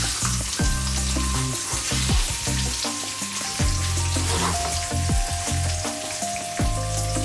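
A leg of lamb sears in a pan on the hob over gentle heat, giving a steady crackling sizzle with scattered pops and spits, close and loud throughout with no voices.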